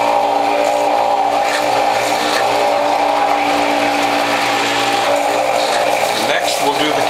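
A Norwalk juicer's motor strains loudly and without a break while juicing cucumber, holding a steady mechanical whine with a grinding edge, close and unbroken for the whole stretch.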